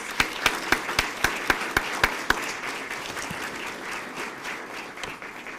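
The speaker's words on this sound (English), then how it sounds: "Let's please give them all a round of applause." Applause at a police promotional and awards ceremony: a few loud, evenly spaced nearby claps ring out over a crowd's steady clapping, which carries on alone and fades slightly toward the end.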